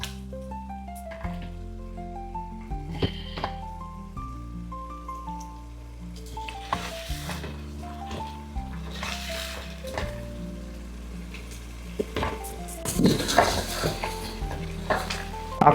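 Blended paste fries and sizzles in a pot for one-pot snail rice, with a steady soft crackle and occasional stirring scrapes under background music, growing busier toward the end.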